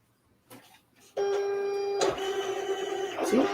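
A Silhouette Cameo cutting machine runs with a steady whirring motor hum as its carriage moves across to read registration marks on a taped Cricut mat, with brief mechanical clicks near the start and a small clunk near the end.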